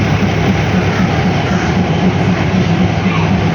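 A three-car train at Wongwian Yai station on the line toward Mahachai, loud and steady with a continuous rolling rail rumble and clatter close by, no speech.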